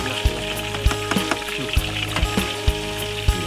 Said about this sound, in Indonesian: Bayangkan ikan segar terus digoreng.